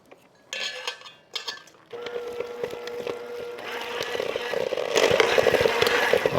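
Vanilla extract is mixed into egg tart batter in a bowl, with a short clatter of utensil on dish and then continuous scraping and whisking that grows louder and busier.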